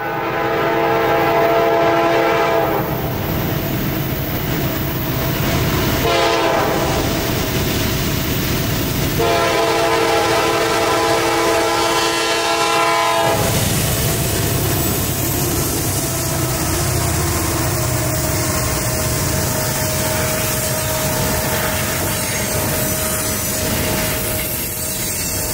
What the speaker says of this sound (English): Norfolk Southern train 142 showed up from around the bend